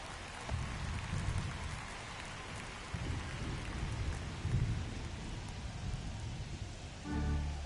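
Steady rain pours down in a baseball video game simulation, a dense, even hiss of drops on surfaces with low rolling rumbles underneath, and no voices.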